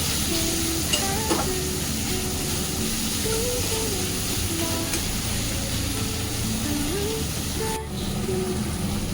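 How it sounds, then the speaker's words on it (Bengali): Spices sizzle and are stirred in a pan with ginger-garlic paste, turmeric, salt and a little sugar, a continuous frying hiss with scraping strokes and some faint background tones, one brief dip near the end. "ভালো করে মশলাটা কষিয়ে নিচ্ছি"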